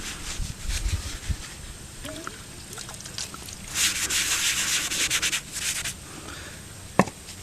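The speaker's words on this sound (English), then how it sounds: "put some grease and wax remover on it just to make sure there's no residue." A rag wipes grease and wax remover over a dented car body panel, making soft, close rubbing strokes in bursts, with a few faint knocks and a sharp click near the end.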